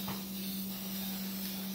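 A spray paint can hisses in one steady, close, loud burst with no pause, applied as a coat of paint on a racing model.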